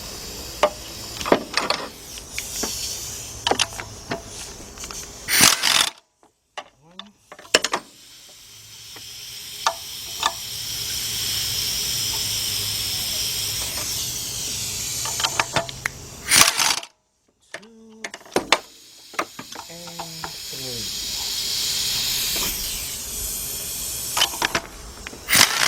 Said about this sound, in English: drive extension with my 13 millimeter deep 1/2 inch drive and my air gun